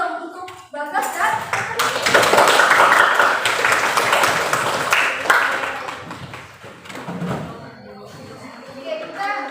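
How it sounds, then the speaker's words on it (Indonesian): Classroom students clap for a classmate in a trigonometry lesson, a burst of lively applause mixed with children's voices that swells, holds for several seconds, then tapers off as talking resumes. "Tepuk tangan dulu dong untuk Bagas"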